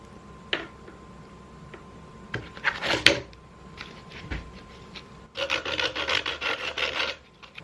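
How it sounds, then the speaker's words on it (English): Sandpaper rubs across a threaded wooden part in a workshop, giving a few scattered scrapes and clicks before a sustained, rhythmic rasping burst of back-and-forth sanding near the end. "I may have to touch this up a little bit with some sandpaper to smooth it out some."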